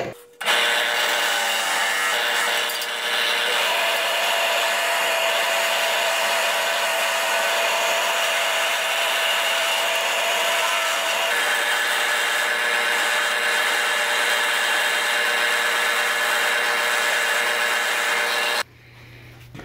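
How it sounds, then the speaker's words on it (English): A 1-inch spherical burr on a drill press grinds into a wooden popping cork, a continuous high whirring rasp lasting about eighteen seconds at close range before it cuts off abruptly. "This is a 1-inch spherical burr."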